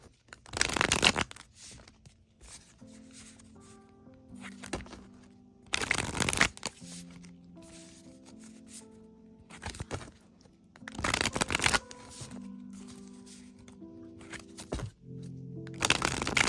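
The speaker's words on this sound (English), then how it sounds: "Let's get a couple of tarot cards here." Tarot cards being shuffled by hand, with crisp riffling bursts repeating about every five seconds and quiet background tones playing between them, no talking.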